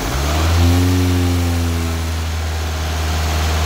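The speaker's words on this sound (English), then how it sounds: "Rev it up." A 22R engine in a 1981 Toyota SR5 pickup revs up from idle nearby, its steady droning hum rising briefly and then holding at a higher pitch, loud and alone without talk.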